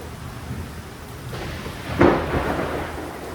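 Rain falls steadily while a sharp, loud thunderclap bursts about two-thirds of the way through and rumbles on under the downpour; no voices are heard.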